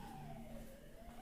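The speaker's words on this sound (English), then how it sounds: "There was an ambulance just rushing by." An ambulance siren passes by outside, heard faintly and distantly as a steady wailing tone that slowly falls in pitch as it rushes past.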